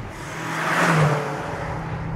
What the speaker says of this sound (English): This is full throttle in third gear.